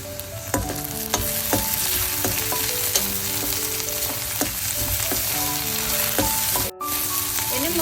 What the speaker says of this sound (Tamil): இன்னும் கொஞ்சம் நேரம் வெங்காயம் நல்லா பொரிஞ்சு வரட்டும்.